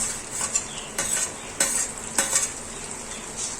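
Cumin seeds, a piece of cinnamon and two green chilies sizzle in a hot pan for a dum aloo recipe, with a steady frying hiss broken by several sharp spoon-scraping stirring strokes.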